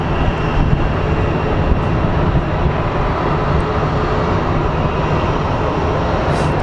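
A Boeing 777 airliner at Phoenix Sky Harbor International Airport gives off a steady, loud broadband jet engine roar that holds without letup and without talk.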